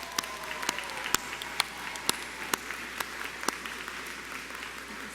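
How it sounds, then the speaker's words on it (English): Sparse, fairly faint applause from a small audience at a nursing pinning and commencement ceremony, with a handful of loud, distinct claps standing out at a slow, irregular pace over a soft background. "Let's give them a round of applause."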